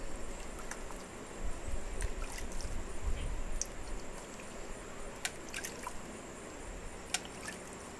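Water is poured slowly from a mug onto a seedling nursery tray in a terrace garden, giving a soft, steady trickle with scattered drips over faint background hiss.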